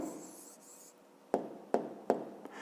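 A pen writes an answer by hand on paper, a soft scratching followed by three or four short distinct taps and strokes, close and quiet.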